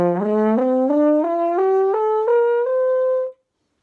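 A French horn played with the right hand bent at the knuckles inside the bell gives a rising series of sustained, slurred notes, each clear and resonant, heard alone up close.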